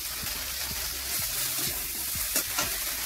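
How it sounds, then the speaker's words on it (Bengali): Onions frying in a pan with salt and turmeric, a steady close sizzle with repeated stirring scrapes and soft clatters of a utensil against the pan. "পেঁয়াজটাকে একটু গোল্ডেন ব্রাউন করে নেব, অল্প লবণ, একটু হলুদ দিয়ে দিলাম।"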